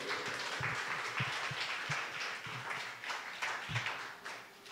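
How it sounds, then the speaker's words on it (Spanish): Churchgoers at a Spanish-language church service applaud, a steady, fairly soft wash of clapping heard from a distance with irregular thumps mixed in. "Denle un aplauso al Señor."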